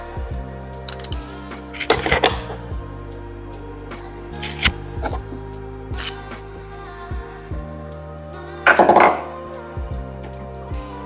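A ratchet wrench clicks in short bursts, loosening a 10mm bolt that holds an intake part to the plenum on a car engine. Several separate spells of ratcheting and clanking sound close by.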